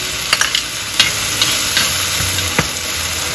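Vegetables stir-fried in a wok for a lamb noodle soup, with tomatoes, wood ear mushrooms, potato, onion, carrot and celery: a steady sizzle with repeated scraping and tossing strokes of a spatula, close and fairly loud, no talking.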